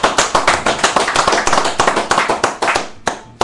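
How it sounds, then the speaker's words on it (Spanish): A studio audience gives loud, dense applause for a radio show technician, continuous hand clapping for about three seconds before it cuts off. "tenemos a Edwin Aguilera, para quien pedimos un fuertísimo aplauso."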